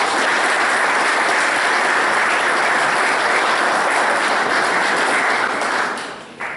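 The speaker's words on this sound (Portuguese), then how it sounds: "eu peço uma enorme salva de palmas" Audience at a Rotary talk gives a sustained round of applause, dense and steady clapping that holds loud throughout before tapering off at the very end.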